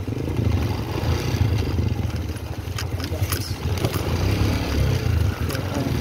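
A motorcycle engine labors steadily while climbing an uphill trail near San Mateo, Rizal, with rattling clatter over the drone and a voice speaking briefly.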